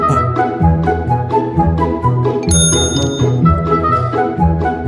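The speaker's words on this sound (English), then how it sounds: "Whenever you guys hear the bell ding" A hand bell gives a single bright, ringing ding partway through, its clear tone hanging briefly over a steady, busy tonal background.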